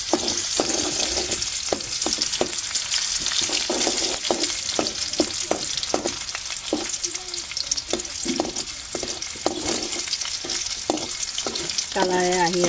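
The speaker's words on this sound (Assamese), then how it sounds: "তেলখিনি গৰম হৈ গ'ল, পিঁয়াজ দি দিলোঁ।" Onions fry in hot oil for an Assamese mixed vegetable dish, a loud continuous sizzle punctuated by regular scraping stirs of a spatula, close up and without speech.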